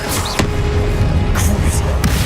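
The Confringo spell cast in Hogwarts Legacy, heard as sharp, loud magical bursts and impacts, several in quick succession over a dense game soundscape.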